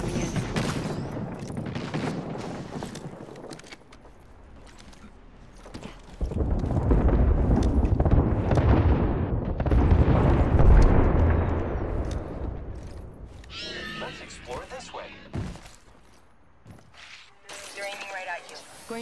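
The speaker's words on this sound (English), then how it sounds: "We've got an airstrike coming in." Airstrike explosions in a first-person shooter video game, a heavy, rumbling run of blasts that swells loud and dense through the middle of the stretch and then fades, with a voice talking over the game action.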